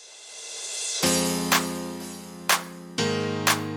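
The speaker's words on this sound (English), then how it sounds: "this crash, we're going to add a fruity delay too" A bright crash cymbal hits over a sustained tone, its splash repeating in echoing bursts roughly every second, bouncing with a ping-pong delay.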